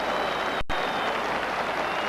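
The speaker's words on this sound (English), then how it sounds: "Big round of applause for him" Football crowd applauding at a 1989/90 English cup match, a steady burst of clapping and crowd noise from a large stadium, brief and continuous with a short break in the middle.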